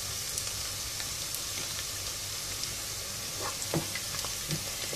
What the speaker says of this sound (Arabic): حنقلي كل اللحمة والصنوبر والبصل